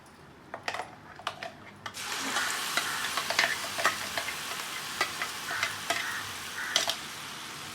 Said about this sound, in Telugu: ఇప్పుడు మనం పచ్చడి దీంట్లో వేసేసుకుందాం.